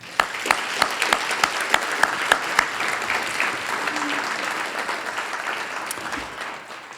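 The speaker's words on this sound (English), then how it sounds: "let's give out a huge round of applause for everyone speaking tonight" Audience applause at a community gathering in Lewiston, Idaho, a steady wash of clapping from a sizable crowd lasting several seconds with a few sharper claps standing out near the start before tapering slightly at the end.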